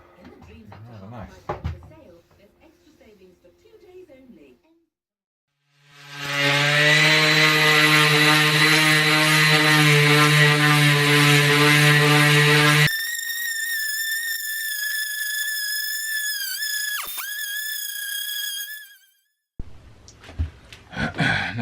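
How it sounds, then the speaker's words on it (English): Power sanding of an end grain yew branch chopping board: a loud, steady buzzing machine drone that starts after quiet talk, jumps to a higher whining pitch partway through, then cuts off as voices resume. "Now that we've finished sanding,"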